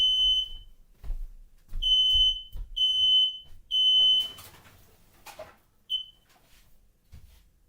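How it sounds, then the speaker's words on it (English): A smoke alarm sounds a series of shrill, piercing beeps, each with a thump beneath it, then some clattering and a final lone beep. "It's just a smoke detector."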